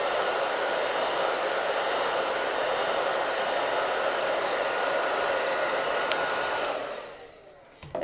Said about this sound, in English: I'm just going to hit this with the hairdryer real quick.